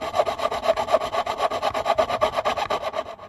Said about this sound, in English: Remember, you've got to use a saw, not your shears